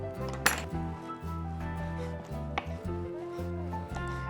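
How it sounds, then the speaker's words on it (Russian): A knife finely chops herring on a cutting board for a pancake filling, giving a few sharp, crisp chops under steady background music. "Мы возьмем селедку и тоже ее мелко порежем."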